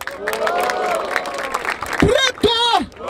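Crowd noise at a Barueri rap battle (Batalha da Aldeia) surges between rounds, with cheering and clapping blending under a loud MC shouting over it.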